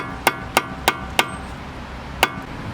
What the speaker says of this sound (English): So first you want to just do some hard hits here and there, because it often just break the rust through.